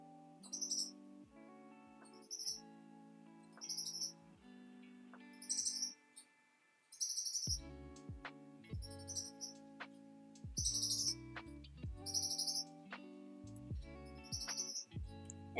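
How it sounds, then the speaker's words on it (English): A pet bird named Faraday whistles in its cage with short, high, bright chirps repeating every second or so against a steady tonal background hum. "And if you hear that annoying whistling sound in the background, that's actually my wonderful pet bird, Faraday."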